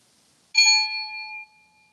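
A single bell struck to begin a breathing exercise gives one clear, bright ding that rings on as a steady tone for about a second and then fades away.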